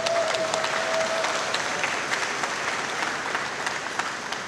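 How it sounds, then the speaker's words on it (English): Steady applause from an audience at a 4-H graduation ceremony, a dense continuous clapping that holds at an even level without a break. "Let's give them all a big round of applause."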